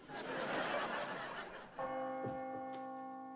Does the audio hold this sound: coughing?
no